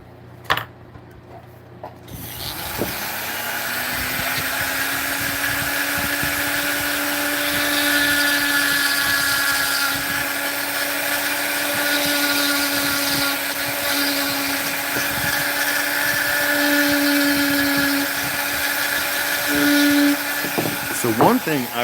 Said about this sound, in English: for his eyebrows, I believe I'm gonna go with the detail burr because I don't want to go very deep on them